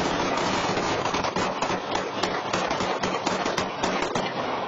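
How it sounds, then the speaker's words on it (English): A second barrage of gunfire in a residential neighborhood, a dense, loud, continuous run of rapid cracking shots sustained for several seconds with no talk. "So a moment ago, you heard one barrage of gunfire."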